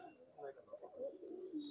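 Dub wale pigeons coo in a low, rolling murmur that wavers throughout, faint and close, with soft background noise.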